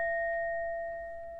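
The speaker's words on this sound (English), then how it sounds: "Let me ding the bell." A small bell is struck once and rings with a clear, sustained pure tone that slowly decays, alone in a quiet room.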